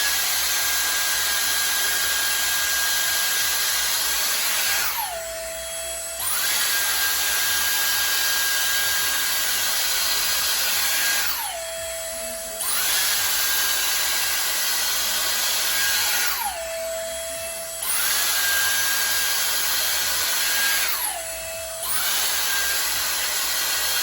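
A Dyson Airstrait straightener blows a loud, steady rush of air on its cold, high fan setting, cycling off briefly four times with a falling whine before restarting.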